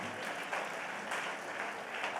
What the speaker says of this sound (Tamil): நம்ம ஆண்டவருக்கு நல்ல கைதட்டு கொடுப்போமா?